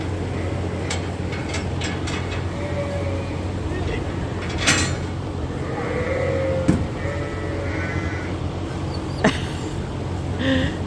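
Sheep bleat repeatedly while eating hay on a rainy farm, several calls at moderate distance over a steady background hum and rustle of the flock.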